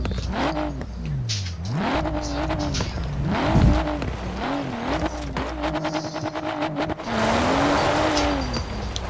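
A car in Forza Horizon 4 revving and accelerating hard through repeated gear shifts, engine pitch climbing and dropping with brief tire squeal, loud and close throughout.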